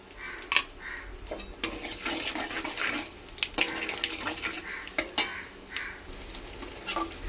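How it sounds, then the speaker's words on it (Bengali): Panch phoron spices dropped into leftover oil from frying fish: irregular bursts of crackling and spluttering come and go close by, mixed with clattering of pan and utensils. "ওই তেলেতে আমি 5 ফোড়ন দিয়ে দিলাম"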